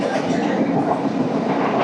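The Dhumketu Express runs from Dhaka to Rajshahi through the rural north of Bengal, and its wheels roll on the rails in a steady, close, continuous rumble with faint rhythmic clatter. No voices are heard over it.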